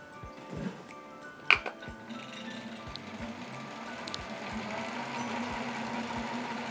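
A spinning wheel spinning wool yarn runs with a steady, evenly spaced mechanical knock and tick, clear but moderate, with one brief sharper clatter early on and no talking.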